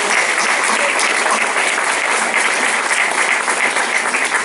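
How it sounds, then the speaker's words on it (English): A room of guests at the Coquille Chamber of Commerce Chocolate Fantasy event gives a round of applause, dense and loud, steady clapping sustained throughout with no voices on top. "A round of applause for those folks also this evening."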